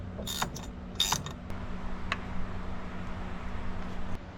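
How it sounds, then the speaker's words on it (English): A ratchet clicks in short bursts while tightening a brake caliper on a hot rod mini truck, with a few sharp metallic clicks early on over a low steady hum in a garage. "we're gonna have to tighten up that caliper just so we can get an accurate idea."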